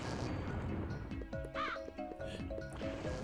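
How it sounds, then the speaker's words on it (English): A crow caws in the spooky zone of the Ms. Pac-Man Maze Madness video game, giving a short, raspy call over a busy, steady music and effects bed. It sits fairly low in the mix. "I heard a crow."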